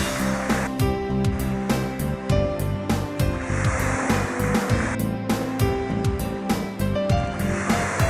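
Sea waves on the shore of Antongil Bay at Masoala, Madagascar, washing in a steady, dense roar with repeated sharper crashes and splashes throughout, loud and close.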